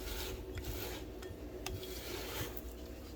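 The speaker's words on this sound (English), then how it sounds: "I'll use my spatula to get everything off of the sides" Spatula scraping vanilla bean donut batter from the sides of a mixing bowl, a steady close rasping rub with a few faint clinks and no talking.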